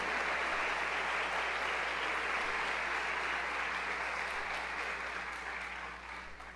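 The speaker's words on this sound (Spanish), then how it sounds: "Denles aplauso al Señor con ganas" Sustained congregational applause in a church service, a broad, even roar of many people clapping that continues without pause, with a low electrical hum beneath, gradually tapering in the final seconds.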